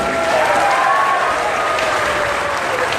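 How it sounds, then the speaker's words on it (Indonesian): A crowd at a political rally in Sabah claps loudly and continuously, a thick, sustained roar of hands with some crowd noise mixed in. "Beri tepukan pada Datuk Seri."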